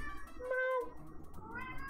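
A pet cat gives a short, clear meow, close to the microphone, against a quiet room background.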